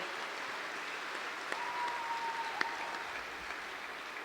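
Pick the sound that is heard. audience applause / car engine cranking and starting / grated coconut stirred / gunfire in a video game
audience applause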